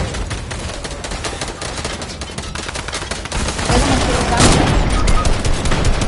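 Rapid gunfire bursts dense and loud through an online shooter match on PS4, rising to an even heavier fusillade in the second half, with speech faintly mixed in.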